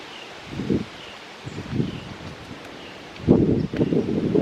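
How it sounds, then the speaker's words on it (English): Gusts of wind buffet outdoors at a park in short bursts, rustling and rumbling against the microphone, with quieter gaps between and a stronger gust near the end. "It's pretty windy today"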